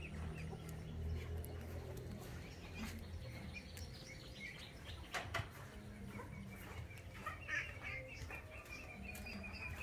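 A farm-raised flock of Muscovy ducks kept at a home farm, soft scattered calls and clucking-like murmurs from many birds at close to middle distance, fairly quiet over a steady background noise.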